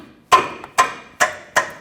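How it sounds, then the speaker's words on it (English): Four sharp metallic taps, evenly spaced about half a second apart, as a socket extension knocks an oil pan bolt into place on a 2009-2014 Ford F-150 with the 5.4L engine; close and distinct with nothing else behind them. "once I get it close in there, I can hopefully just tap it into place"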